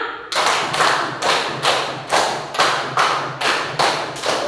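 Two rounds of five counted claps from a group playing a clapping concentration game, ten crisp unison claps in a steady rhythm, loud and near, with no talking.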